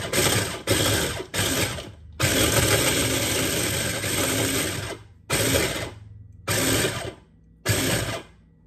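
An electric grinder whirs loudly as it grinds walnuts for a pumpkin caramel cheesecake, running in several on-off pulses, one long stretch and then short bursts separated by silence.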